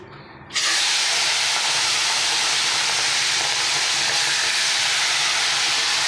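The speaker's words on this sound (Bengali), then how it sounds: "চিংড়ি মাছগুলো হালকা একটু ভেজে নেব" Shrimp coated in salt and turmeric drop into hot oil with a sudden loud burst of sizzling after a brief quiet moment, then a steady, dense spitting hiss continues close up.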